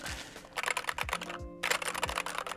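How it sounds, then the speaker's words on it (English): Brisk typing on a new computer keyboard, with rapid close clicks and clacks in bursts, separated by a short pause and heavier key thumps, heard alone without talk. "Finally a decent keyboard."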